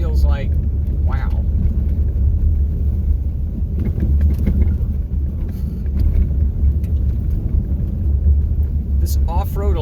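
A Hyundai Elantra drives at about 30 on a water-filled off-road forest trail, giving a continuous heavy low rumble with rattling bumps; brief voices surface at the start and end.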